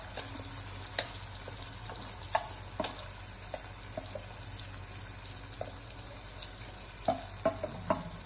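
Tomato sautéing in a pan for a Gujarati methi papad sabji: a soft, steady sizzle with faint clicks and small scrapes, low in level, no talking.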